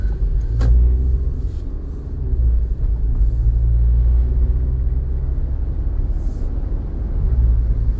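A 2001 Toyota Highlander pulls away and drives on, a loud steady low rumble of engine and road noise heard from inside the cabin, with no talk.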